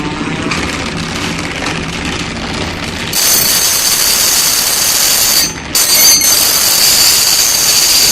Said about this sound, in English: A Pike Artisan tool grinder, and it works pretty cool.